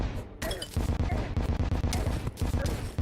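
Turrets firing in the video game Terraria with the Calamity mod, a rapid, steady stream of punchy shots in a fast rhythm, loud and continuous over a dense layer of game sound.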